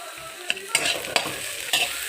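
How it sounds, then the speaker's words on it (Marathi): Onion and vegetables are stirred in a pan with salt, a spoon scraping and knocking against the pan several times over a soft sizzle, close and fairly quiet. "चांगली मिक्स करून घेऊ, ते मीठ पण टाकलेलं पूर्ण।"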